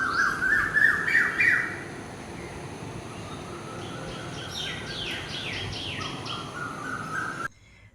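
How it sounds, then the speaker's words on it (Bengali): Many birds singing and squawking in the early morning, loud chirps in the first seconds, then a mix of calls at varying distances until a sudden cut near the end. "শুনলে সকাল সকাল কত পাখিদের কি সুন্দর মিষ্টি আওয়াজ।"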